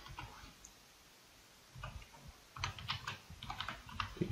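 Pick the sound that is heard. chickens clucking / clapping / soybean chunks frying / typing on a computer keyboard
typing on a computer keyboard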